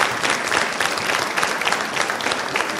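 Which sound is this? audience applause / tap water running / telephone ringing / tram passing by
audience applause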